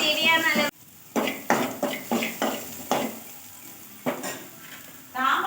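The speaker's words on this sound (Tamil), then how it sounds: "பாருங்க வெங்காயம் நல்லா வதந்து உப்பு போட்டாச்சு" Onions sauté in a pan for a drumstick-leaf stir-fry, sizzling quietly between a rhythmic series of sharp spatula scrapes and taps against the pan, close up.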